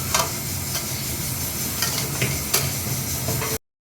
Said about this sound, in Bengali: এবার সবজিটা খুব ভালো করে ভাজবো।